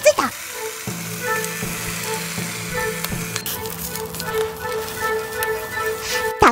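Bacon and batter cooking inside a hot sandwich maker for a pancake sandwich, with a steady close sizzle, a few clacks and knocks, and faint tonal background sounds throughout.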